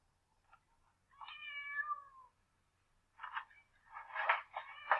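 A cat meows several times, starting with a long drawn-out meow, then a pause and a cluster of shorter, insistent meows. The calls are close, clear and alone against near silence.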